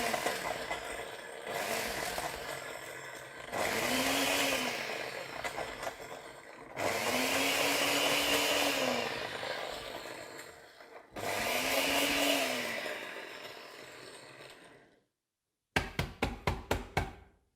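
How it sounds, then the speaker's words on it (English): A liquidizer blending cannabis with solvent runs in several loud whirring pulses with rising and falling motor pitch, pausing briefly between runs, and ends with a series of quick rattling knocks. "in a liquidizer"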